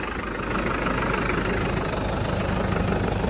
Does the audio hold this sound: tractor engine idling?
yes